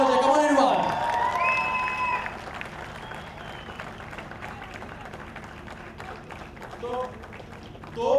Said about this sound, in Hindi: रुद्र महाकुंभ के जोरदार तालियां हो जाए।